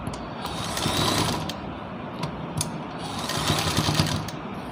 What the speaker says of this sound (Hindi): जो हमने पहली सिलाई लगाई है ना उसी के ऊपर हमें ये वाली सिलाई लगानी है